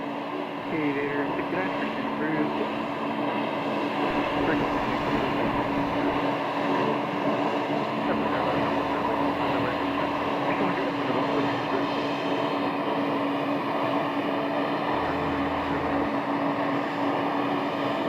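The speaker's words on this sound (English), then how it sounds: "That looks like the Beach King Air that I was talking about a few minutes ago." Beechcraft King Air turboprop on final approach near Scottsdale, a steady broadband engine drone heard from a distance, continuous and fairly loud, with a low wind-like rumble underneath.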